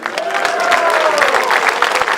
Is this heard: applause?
yes